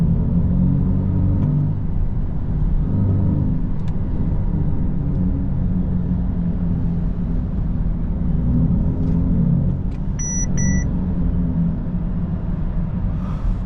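Synthetic performance drive sound from a Mercedes-AMG EQE53 electric car, a steady loud low hum with layered tones heard from inside the cabin while driving, continuous for the whole stretch with no talking.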